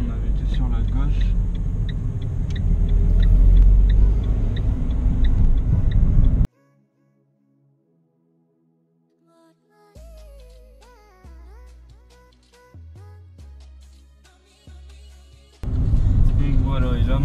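A car drives calmly back to the driving test centre. Its steady low cabin rumble stops abruptly and gives way to a quiet gap and tonal music, then returns near the end, with voices talking.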